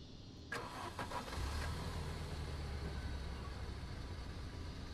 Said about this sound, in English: Sounds like a little four-cylinder or something.